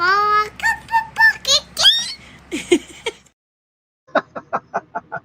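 A voice imitates a hen with a run of short clucks, close and clear. Adult and child speech comes before it, and there is a brief pause between the two.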